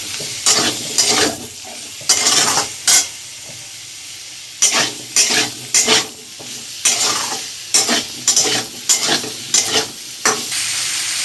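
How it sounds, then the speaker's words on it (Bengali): Prawns frying with elephant foot yam for a Bengali ol chingri dish make a close, lively sizzle broken by repeated rhythmic bursts of stirring and scraping in the pan, with no voices. "ওলের সঙ্গে একসঙ্গে চিংড়ি মাছ ভাজা হয়ে গেছে।"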